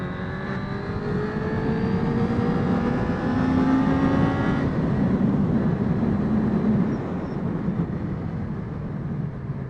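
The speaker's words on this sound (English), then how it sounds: "Big Frank back on the road with his new exhaust" Suzuki GSX-R600 SRAD motorcycle fitted with an aftermarket Noiser exhaust, ridden on the road: a steady loud engine drone with rising gear-change whines, continuous across the whole stretch with strong wind rush.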